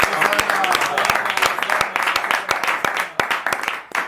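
Church congregation applauding, a dense, steady burst of many hands clapping close by with sharp individual claps standing out, voices faintly mixed underneath.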